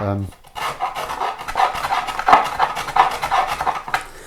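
Hand carving tools scraping and rasping across the wooden body of an ES 335 guitar build, with a steady run of close, rough strokes repeating for several seconds.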